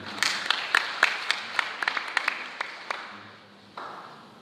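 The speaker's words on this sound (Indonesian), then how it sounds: "Beri tepuk tangan buat Tuhan" Scattered church congregation at Bethany Tobelo claps in a quiet, uneven patter of separate hand claps that thins out over a few seconds, heard in a reverberant hall.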